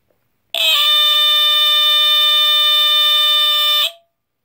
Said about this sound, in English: It's kind of raspy sounding, kind of more raspy than the 8202 there.